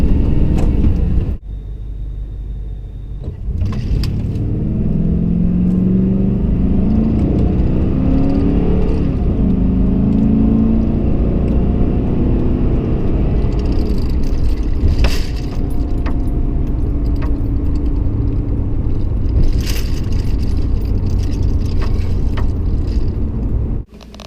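A car drives out of a parking lot, its engine rumbling steadily and rising through the gears, with a jangle of keys and brief clicks up close.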